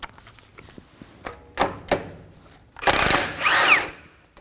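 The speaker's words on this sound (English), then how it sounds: "using a 14mm socket, we're gonna remove this nut." Power tool with a 14mm socket loosening a nut on the front CV axle of a 2016-2020 Kia Sorento 2.4L, heard as a few clicks and brief whirs followed by two loud close bursts of motor whine.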